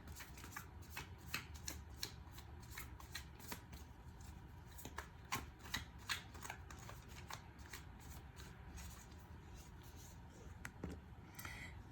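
Tarot cards being shuffled, a rapid run of crisp riffling flicks and soft card slaps repeating over several seconds, close up and quiet, with no voice.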